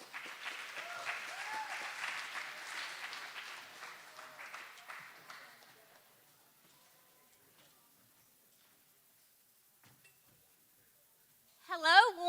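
Audience applause in a chapel for a library director's introduction, a steady broad patter of many hands lasting several seconds before fading into near silence, with a brief voice at the end.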